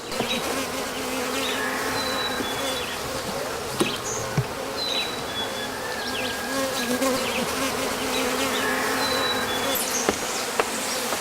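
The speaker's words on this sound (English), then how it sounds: "Honeybees are pollinators." Honeybees buzzing around a hive, a dense, continuous swarm hum close by with individual bees droning past, steady and loud throughout.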